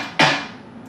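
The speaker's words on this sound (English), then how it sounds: "Next we had our snare." A single snare drum sample from a 148 BPM beat: one sharp, bright crack with a short decaying tail, fairly quiet and alone without other sounds.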